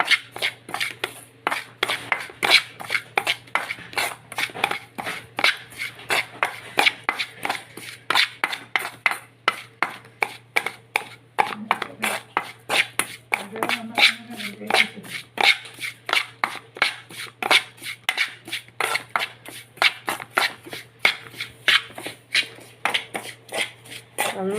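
Roasted chilli, coriander and turmeric powders are stirred in a hot pan taken off the heat for prawn theeyal, giving a long run of quick, regular scraping strokes at close range.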